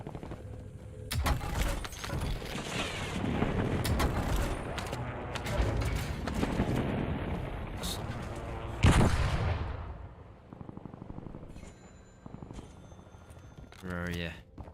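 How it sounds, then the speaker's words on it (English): Airstrike explosions boom in the Call of Duty Warzone video game, a series of heavy, rumbling blasts with one sharp loud burst near the middle, mixed with other game effects and occasional player voices. "Enemy airstrike in the I area."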